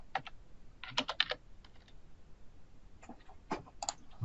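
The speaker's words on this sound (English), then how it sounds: "You on your keyboard, you enter your search term of whatever topic it is you're working on" Bursts of typing on a computer keyboard as a search term is entered, quick clusters of close, crisp key clicks separated by short pauses, with no voice over them.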